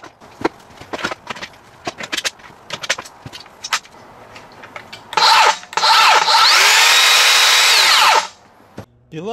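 A circular saw with a metal-cutting blade set to maximum depth whines loudly for about three seconds as it cuts through steel roof sheet, preceded by scattered clicks and taps and ending abruptly.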